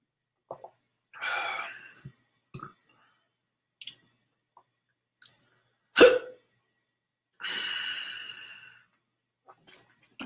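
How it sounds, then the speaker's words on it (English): Repeated hiccups from a man, a series of sharp, isolated spasms separated by quiet gaps, close and fairly loud, with breathy gasps between them and no speech. "I fucking hate the hiccups."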